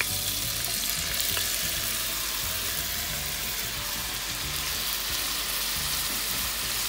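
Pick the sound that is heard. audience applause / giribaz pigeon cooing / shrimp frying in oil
shrimp frying in oil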